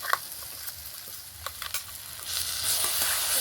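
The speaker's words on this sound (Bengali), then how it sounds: "এবার ভালো করে একটু নেড়ে চেড়ে মিশিয়ে নেব।" Mashed green pea paste fries with spices in a wok, giving a steady close sizzle with brief scraping stirs that grows louder and hissier toward the end, with no talking.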